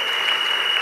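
Congregation applauding during a Sunday church service, a steady dense wash of clapping filling the room with no break throughout.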